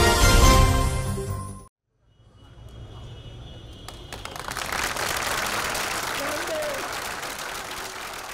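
Long applause greets new police chief Vittorio Pisani on his visit to the Naples police headquarters. A few seconds of music cut to a brief silence, then steady clapping swells in and carries on, broad and sustained, to the end.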